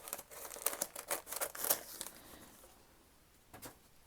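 Paper is cut for a creative daily journal, heard as close crinkling and snipping in an irregular burst of rustles over a couple of seconds, then quieter handling and one brief rustle near the end.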